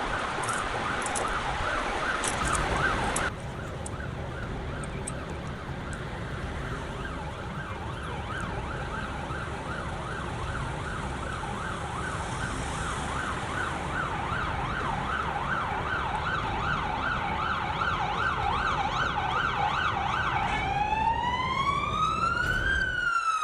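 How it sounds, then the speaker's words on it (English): Police car sirens wail continuously during a high-speed chase, a loud, repeating up-and-down cycle that holds steady, then shifts into a faster rising sweep near the end. "Activating their emergency lights and sirens, police signaled for the vehicle to pull over"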